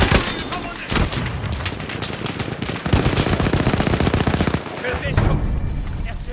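A Lewis Gun in Battlefield 1 fires in rapid, loud, sustained bursts with short breaks between strings of shots, along with in-game voices and battlefield noise.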